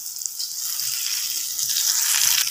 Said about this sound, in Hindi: हम ऐसे इसको पलट देंगे ताकि ये दूसरी तरफ से भी फ्राई हो जाए अच्छे तरीके से